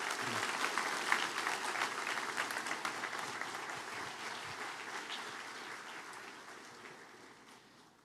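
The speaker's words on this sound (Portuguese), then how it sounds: "pedir uma salva de palmas para eles" Applause from a church congregation honouring a team, a dense steady patter of many hands that fades gradually toward the end, with no talking over it.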